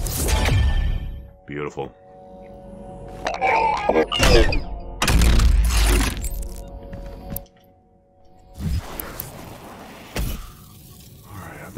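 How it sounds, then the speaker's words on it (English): In the Doom Eternal video game, an energy blade is charged and launched, heard as heavy thunks, cracks and shattering impacts amid bursts of gunfire and explosions, loud and close, with someone talking over parts of the action. "Charge up and launch an energy blade that cleaves enemies as it flies"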